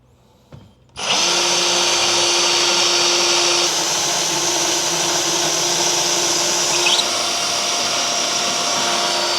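A power drill pre-drilling a kitchen cabinet whirs up sharply and runs continuously at a steady high pitch for several seconds, close and loud, with a slight change in tone partway.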